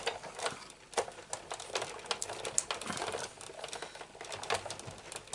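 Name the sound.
cutting paper card for a Stampin' Up project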